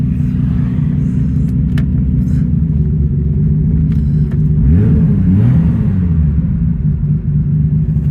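A Nissan RB26 engine with a random misfire idles in a loud, close, steady rumble. Midway it stumbles and pops in a choppy burst, much like a two-step launch control, then settles back to its even idle.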